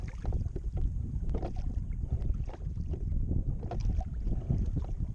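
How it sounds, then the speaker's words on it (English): Oars working a wooden sailing boat as it is rowed out across a lake toward open water, with steady rhythmic strokes and water sloshing close by, while wind buffets the microphone throughout. "I decided it would be most efficient to row my way out to open water."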